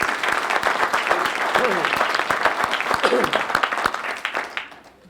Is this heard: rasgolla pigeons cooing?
no